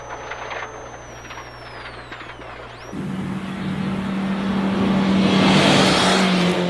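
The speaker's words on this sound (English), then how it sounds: "More and more cars leaving the stage." Rally cars leave a stage at the Prescott Rally, an engine note swelling sharply into a loud, rising rev and growl as a car pulls away close by, building steadily to the end.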